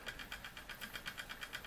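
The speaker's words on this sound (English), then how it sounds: "Vertical boiler steam engine. Running like a dream." A Linemar J-5322 vertical boiler model steam engine runs steadily, its quick, even chuffing beats repeating about six times a second at low volume, with no voices over it.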